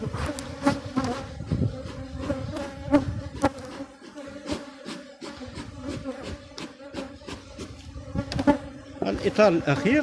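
Honey bees in a strong hive buzz steadily and close during an inspection of frames full of honey and pollen, a dense droning hum with occasional louder passes near the ear.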